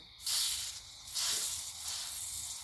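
Two sharp bursts of cleaner spray hiss through a fuel injector, each lasting about a second, loud and close with a brief pause between them.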